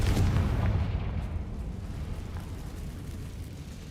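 A Confringo fire spell detonates in the Hogwarts Legacy video game, a heavy booming blast at the start with a deep rumble that slowly decays over several seconds.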